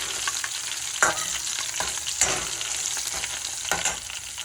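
Food fries in oil in a pan, a steady close sizzle with occasional stirring scrapes and clinks, no voices.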